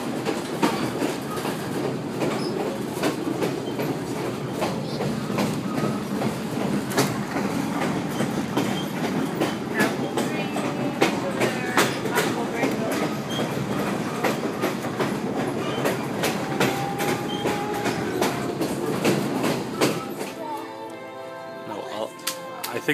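Inside a passenger train on a scenic excursion route, steady rolling rumble with rhythmic clickety-clack of wheels on rail joints throughout, softening near the end, with people talking now and then.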